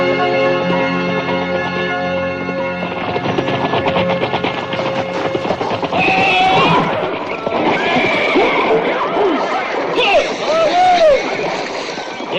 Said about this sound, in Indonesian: Mereka pasukan berkuda Kadipaten Kawali.